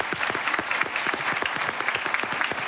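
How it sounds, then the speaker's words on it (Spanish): An audience at a writing school's meeting with a novelist breaks into strong, sustained clapping, a dense even patter of many hands close by. "Vamos a dar un fuerte aplauso."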